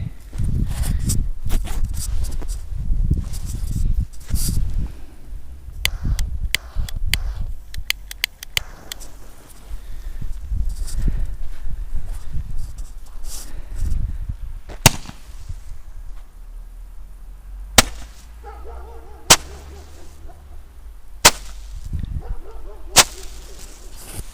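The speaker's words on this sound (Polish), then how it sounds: "Jako pierwszy odpalimy sobie rzymski ogień 20-strzałowy y, od firmy Tropic." A 20-shot Tropic Roman candle fires outdoors as a series of sharp separate pops with crackle, some bursts closely spaced and later shots spread wide apart, ending with loud isolated bangs.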